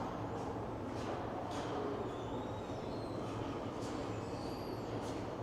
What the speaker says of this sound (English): I see an Up Express train just pulling out of the Up Express terminal also